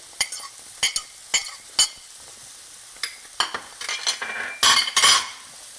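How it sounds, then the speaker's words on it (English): Scallions and green chilies for a vegetable omelette stirred in a pan, with sharp utensil scrapes and taps at irregular intervals, then a brief burst of louder frying near the end, close by and with no voices. "Just keep stirring."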